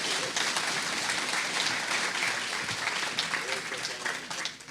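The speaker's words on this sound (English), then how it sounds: "Let's give a round of applause for all 3 this morning." Audience applause after three players in an intermediate event at the Alberta Open, a dense, steady wash of clapping that holds at an even level for the whole stretch, with some voices mixed in.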